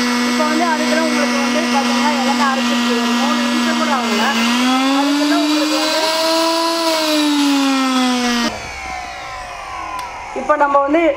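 MMAA flour mill grinding one kilogram of ragi into flour, a loud steady motor whine with pitch shifts, then an abrupt drop near the end followed by rattling.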